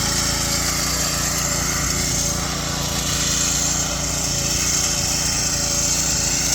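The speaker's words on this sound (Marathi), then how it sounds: "शेतामध्ये आपण त्यांना रोटर चालवून दाखवत आहे" A rotavator tiller machine runs in a farm field, its engine holding a steady, unbroken rough drone with a hissing mechanical churn that stays close and loud throughout.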